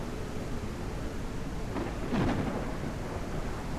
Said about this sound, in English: What is that noise? Is this a thunderstorm?